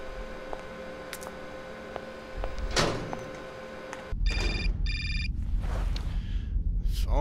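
Telephone ringing inside the video game Syberia, with repeated bright electronic ring bursts in the second half over a steady ambient game background, clear and alone without talk.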